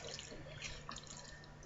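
Green pepper and tomato salsa with a spoonful of conserva being stirred and mixed in a pan, giving soft, wet, liquid squelching and dripping sounds, faint and steady with no talking.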